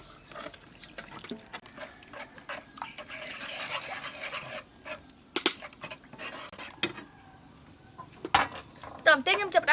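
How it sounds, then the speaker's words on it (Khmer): Metal utensil stirring prahok (fermented fish paste) with soup powder, red sugar, condensed milk, fresh milk and water in a pot, heard as scattered clinks, taps and wet scraping at close range, growing busier and sharper toward the end. "បន្តបន្តិចខ្ញុំកូរវាឲ្យសព្វ"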